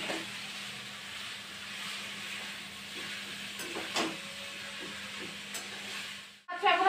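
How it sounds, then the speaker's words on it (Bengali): Potatoes fry in a pan over a simmering flame, giving a steady soft sizzle with occasional stirring scrapes, close and alone with no talking, until a brief clatter at the end. "আরো একটু ভাজা ভাজতে টাইম লাগবে"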